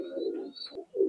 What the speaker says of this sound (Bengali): সাকি টেডি কবুতর, ইম্পোর্ট ব্লাড লাইনের কবুতর।